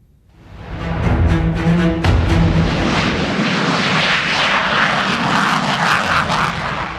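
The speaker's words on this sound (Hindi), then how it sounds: "भारतीय वायुसेना के ये लड़ाकू विमान तरह तरह के करतब दिखाते हुए" Indian Air Force fighter jets perform air show stunts over Dal Lake in Srinagar, a loud roaring engine swelling in within the first second and then holding a powerful, continuous rumble as the aircraft passes close overhead.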